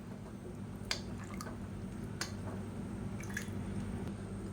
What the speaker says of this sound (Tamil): இது வந்து கொதிக்க ஆரம்பிக்கட்டும்